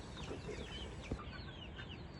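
Small chickens on a farm cluck and chirp in quick, overlapping calls against a dense bed of steady background noise.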